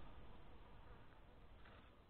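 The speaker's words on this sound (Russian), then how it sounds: "Вот, друзья, прилетела пчела." A honey bee flying in at an apiary in cool weather, a faint steady buzzing drone heard close and alone, without talk.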